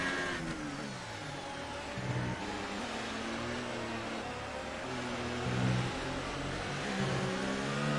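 A McLaren Formula 1 car with a failing gearbox in the racing game F1 2018, a steady harsh whining engine drone, loud and continuous, with slight surges and no talk.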